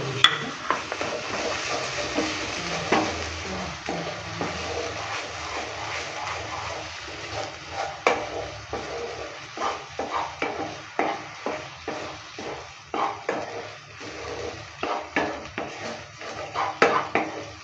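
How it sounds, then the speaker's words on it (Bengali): A spoon stirs ridge gourd mash with chopped coriander in a pan, making soft, continuous scraping and mushy stirring noises punctuated by light clinks of metal against the pan, quiet and close. "ধনেপাতা কুচিটা দেওয়ার পর ভালো করে আবারও নেড়ে চেড়ে নিচ্ছে।"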